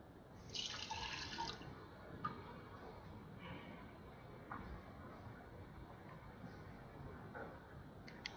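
Water running from a kitchen tap indoors, a steady close rush at the start easing into a softer continuous flow and trickle with a few small clinks, no talking.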